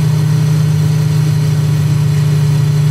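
A Focke-Wulf FW 190-A4's piston engine in Microsoft Flight Simulator drones at a steady, loud, constant pitch with a strong low hum, unchanging throughout with no speech.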